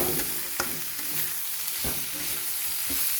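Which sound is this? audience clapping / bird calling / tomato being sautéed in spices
tomato being sautéed in spices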